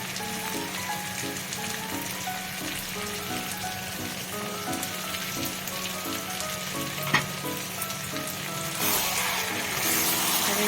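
Chicken biryani, Kolkata style, is stirred in the pot after a dash of kewra water and rose water goes in. A steady sizzle and crackle runs throughout, with soft rhythmic scraping strokes, one sharper knock near the end, and no talking.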